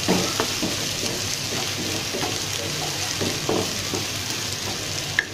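Onions sizzle and fry in mustard oil for Bangladeshi ilish khichuri, a steady broadband hiss running throughout with occasional stirring clicks and small pops, close and alone.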